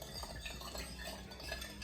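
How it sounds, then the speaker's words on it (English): Spoon stirring brown sugar in a bowl to dissolve it and break up molasses chunks, a steady close scraping and clinking that runs for about two seconds with no voices. "So I'm gonna add that in there, stir that around, let it dissolve a little bit."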